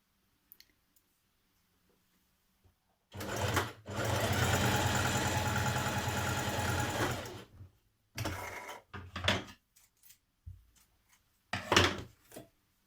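A sewing machine stitches a seam on a knit sweater neckband, running steadily for about four seconds. Shorter stitching bursts and clicks of handling follow.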